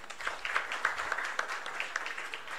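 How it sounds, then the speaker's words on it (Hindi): Applause for a student honoured at a UP Board toppers' felicitation event: a soft, even patter of many hands clapping, fairly faint and steady throughout, with no voices standing out. "अंकित के लिए एक बार तालियां हो जाए"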